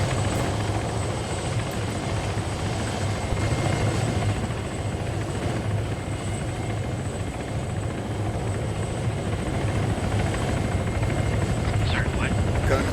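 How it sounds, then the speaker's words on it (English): Helicopter in a multiplayer video game, a loud steady rotor chop and engine drone running continuously throughout with voices talking over it at times. "I'm in one of the choppers"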